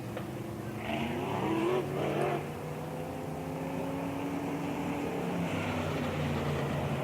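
B modified race cars at Springfield Raceway roll around a dirt oval during a Turkey Bowl heat race, a steady engine drone rising into a louder, closer pass before settling back into a continuous distant rumble, with no talk.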